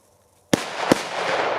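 Two sharp firework bangs in quick succession, followed by a spreading crackle and fizz that carries on to the end.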